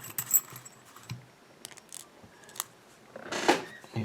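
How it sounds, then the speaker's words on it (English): Small metallic clicks and rattles as a screw is fitted into a spring-loaded padlock being reassembled, a few sharp close ticks scattered among quiet handling, with a brief cluster of louder clinks near the end. "So it's open now. I can insert the screw."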